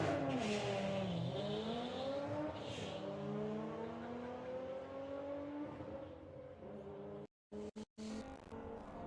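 A VW Sportsman class drag race car accelerates hard down the strip at a qualifying event, its engine note climbing through loud rising sweeps with audible gear changes, then cutting off abruptly near the end.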